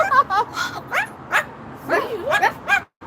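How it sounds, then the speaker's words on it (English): A dog on a home patio barks and yips repeatedly in short, uneven bursts, close and loud, with a few whimpering tones between the barks. "Got some more barks for the dog."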